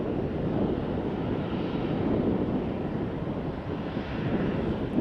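A Jet2 airliner from Bristol arriving at Faro Airport gives a steady, broad jet roar that holds at an even loudness for the whole stretch, with wind buffeting the microphone outdoors and no one speaking.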